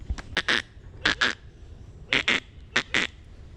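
Honking geese call in quick pairs of loud, nasal bursts, several clusters separated by short pauses, close by with no talking.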